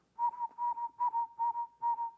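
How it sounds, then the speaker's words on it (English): A person whistles a lively tune of short, clear, steady notes, grouped in quick phrases with brief gaps, close and alone. "and you whistle"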